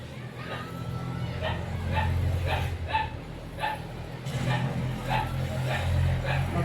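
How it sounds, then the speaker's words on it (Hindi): Dogs barking nearby, a series of sharp, evenly spaced barks over a steady low hum, fairly close and moderately loud. "अब कुत्ता तो अनेक भोंकेगा, आदमी भी भोंकेगा, आपको कुत्ता पे ध्यान नहीं देना"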